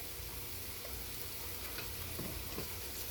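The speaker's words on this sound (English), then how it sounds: "so I'll brown up those onions just a little bit, just so they start getting soft and a little bit translucent." Onions frying in a pan, a constant close sizzle lasting about three seconds, with a few faint scrapes of stirring near the end and no talking.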